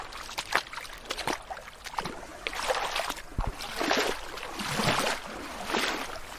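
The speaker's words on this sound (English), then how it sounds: "We are in a river with clear waters and a little waterfall." River water splashes and swirls nearby in uneven bursts around a small waterfall, with trickling and gurgling between louder surges of movement.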